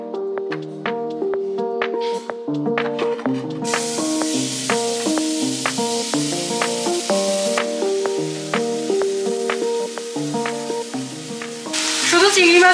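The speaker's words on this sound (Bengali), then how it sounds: "আর আমি না একদম লো ফ্লেমে এটাকে এবার ফ্রাই করব" Prawns frying gently over a low flame in a little mustard oil, giving a soft, steady sizzle beneath a louder melodic backing tune, with the hiss brightening at times and swelling near the end.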